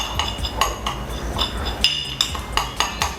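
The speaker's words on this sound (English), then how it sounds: "we take our spoon, and we're going to just mix this all up and get this all mixed in nicely." A spoon stirs a nutmeg seasoning mix in a bowl for sweet potato fries, giving a steady rhythm of light metallic clinks and scrapes about every third of a second, close and without talk.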